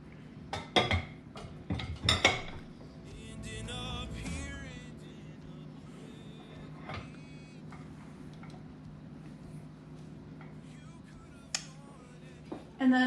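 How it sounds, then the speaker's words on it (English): Silver salt and pepper shakers and a pepper mill are handled and set down, giving a cluster of close metallic clinks and taps at first, then scattered light knocks over a quiet background. "I have to take the top off of the pepper mill so that it will fit."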